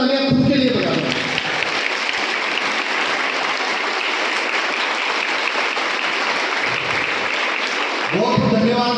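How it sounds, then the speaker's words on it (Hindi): An audience gives loud, sustained applause at a Republic Day speech in Sawai Madhopur, a dense wall of clapping between brief stretches of someone speaking at the start and end. "इस अवसर पर एक बार जोरदार तालियां खुद के लिए बजाएं"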